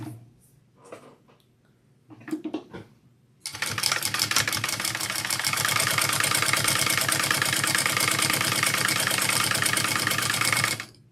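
Handbag panels run through a sewing machine: after a few soft handling bumps, the machine starts with a rapid, even stitching chatter that stays loud and steady for about seven seconds, then cuts off.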